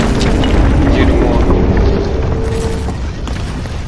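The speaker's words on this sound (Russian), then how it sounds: "Тут там все взрывает, не пойму." Heavy explosions rumble and boom continuously in the Crysis 2 video game, a loud, dense low roar with sharp bursts layered over it and fading slightly toward the end.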